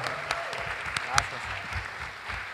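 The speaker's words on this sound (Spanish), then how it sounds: "quiero que le den un aplauso a la leyenda viviente Sir Speedy, bien fuerte" An audience at a conversation event gives a legendary guest a sustained round of applause, with steady clapping throughout and a voice speaking over it.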